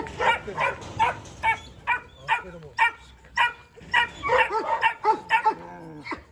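Several Kangal dogs bark and yip in quick bursts, close by, with some whimpering mixed in between the barks.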